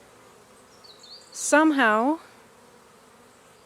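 Honeybees making orientation flights in figure-eights near a hive box on Ōmishima, Japan, give a faint, steady buzz, briefly covered by a spoken word in the middle.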